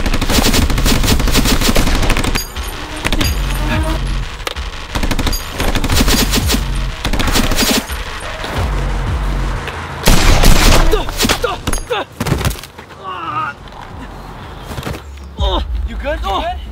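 Toy Nerf blasters fire in rapid bursts during a staged shootout, loud clattering volleys that stop and start, with shouting voices breaking in between the rounds.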